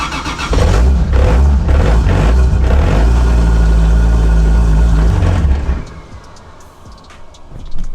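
A Toyota 2JZ engine in a Nissan S14 cranks and catches, running roughly and loudly for several seconds before cutting out, leaving quieter clicks and ticks.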